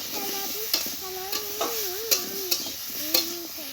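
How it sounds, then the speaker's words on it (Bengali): Potato and pumpkin frying in oil with turmeric, a constant sizzle punctuated by sharp spatula scrapes and clinks against the pan at irregular intervals, alongside a faint tonal whistle. "আর একটু হলুদ দিয়ে ভেজে নেব।"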